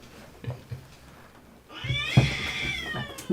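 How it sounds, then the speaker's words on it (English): A cat meows once, a clear drawn-out call rising out of a noisy outdoor background and heard at moderate distance. "You hear the cat? I hear a cat."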